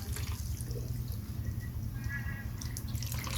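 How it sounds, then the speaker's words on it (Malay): Water poured into a pot while cooking a Malaysian pineapple and salted fish gulai, after sugar, salt and condensed milk; a steady close liquid pour with drips and splashes, continuous and alone. "Sekali tuangkan air."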